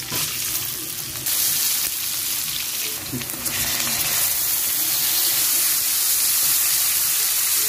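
Onion and garlic fry in hot oil in a pan for Filipino pork menudo, a loud, steady, close sizzle with some stirring and bubbling, rising slightly as it goes on.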